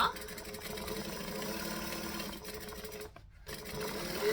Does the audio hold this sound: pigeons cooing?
no